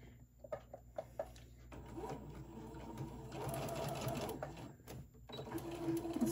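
A home sewing machine runs in short starts, then a longer steady whirring stretch while stitching a fabric Santa bag for a craft fair. It is close and fairly quiet, with small clicks between runs and no speech.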